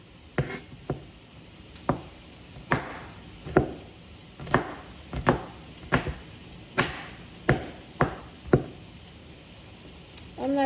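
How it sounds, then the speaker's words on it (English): A knife slices food on a cutting board with a steady series of about fifteen crisp, close taps, evenly spaced and fairly loud. "I'm not dicing it too small, I'm just slicing it a little bit."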